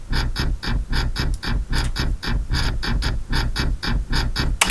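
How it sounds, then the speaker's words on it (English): A raw, harsh synth patch made in Serum, a gritty scraping buzz like a rake dragged over concrete, pulsing in short rhythmic bursts throughout, loud and up close with no talking. "Kind of like a scraping a rake on a piece of concrete"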